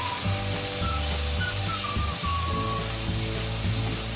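Chicken and cabbage stir-frying in a pan makes a constant loud hiss and sizzle over a steady low hum, close by and unbroken, with no talking.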